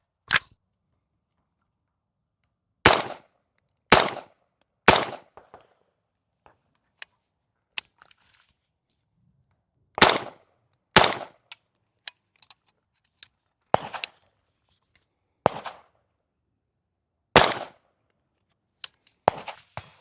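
Daniel Defense PDW in 300 Blackout firing subsonic rounds unsuppressed with a muzzle brake: sharp, loud gunshots, singly and in quick pairs and short strings, separated by quiet gaps with faint handling clicks.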